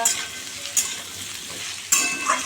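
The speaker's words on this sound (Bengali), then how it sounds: "কাঁচা লঙ্কা তেজপাতা গোটা জিরে ফোড়ন দিলাম" Green chilli, bay leaf and whole cumin crackle and sizzle in hot oil with a continuous close hiss, punctuated by a few sharp spattering pops and the scrape of a stirring spoon.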